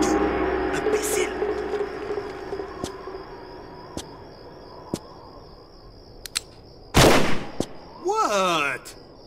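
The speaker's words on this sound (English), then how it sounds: "What does the cowboy hope to achieve with this mindless firing?" Gunfire in a Tomb Raider Chronicles cutscene, a series of sharp, isolated shots spaced a second or so apart over insect-like background hum, followed by a louder burst and a ricocheting whine near the end.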